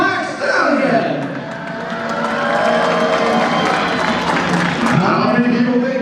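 A large arena crowd at a monster truck event cheers and roars loudly in a sustained swell, while an announcer's amplified voice talks over it.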